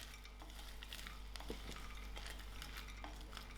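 Frozen blueberries are stirred in a pan, a faint scraping and light clinking of a utensil over a low steady hum, quiet and close, with no voices.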